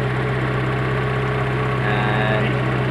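A Mazda Miata engine idles steadily during an idle adjustment after a timing change, a continuous low hum with a faint higher whine appearing near the end.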